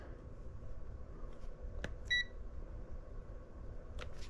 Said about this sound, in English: That's a really nice loud beep.